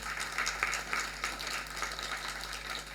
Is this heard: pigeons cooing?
no